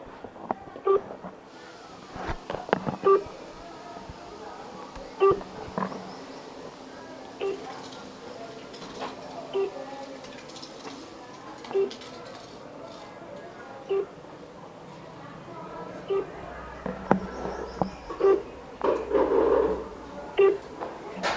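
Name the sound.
phone call dialing and ringing unanswered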